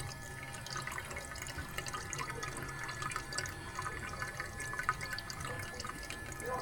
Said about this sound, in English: We can have an indication of how long it takes to pump 20 liters.